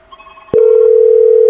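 A telephone call over a SIP trunk is placed: after a brief faint blip, a loud steady ringback tone starts and holds for about a second, clear and close.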